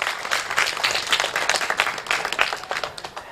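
A crowd of residents claps loudly at a ward number 7 election event. The applause is dense and uneven, with individual claps standing out as it swells and then thins toward the end.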